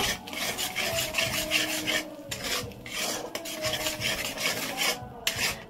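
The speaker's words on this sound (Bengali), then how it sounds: "বাটাটা দিয়ে ভালো করে নেড়ে নেব" Spice paste being stirred into a kofta curry of green plantain in a pan, a steady rasping scrape of a spoon against the metal repeating in rhythmic strokes, close and fairly loud with no talk.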